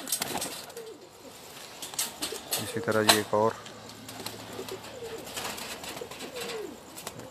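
Pigeons on a rooftop coo softly in a brief low murmur, with faint wing flutters, while someone talks over them.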